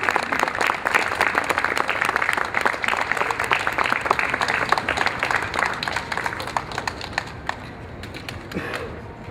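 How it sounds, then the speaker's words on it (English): An outdoor protest crowd gives a round of applause for a family, with close, crisp individual claps rattling steadily before thinning out and tapering off. "Let's give them a nice round of applause."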